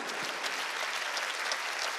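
A large crowd at a church evangelistic rally in an indoor gymnasium claps in a steady, dense wash of applause, fairly distant and even throughout.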